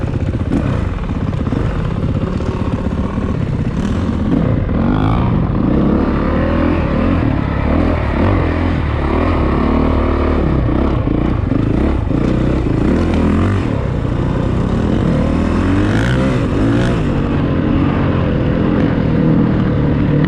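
A new 2022 Honda CRF 450RX dirt bike is ridden hard. Its engine rises and falls through loud revs, shifts and throttle blips for about twenty seconds, close up and with no talking.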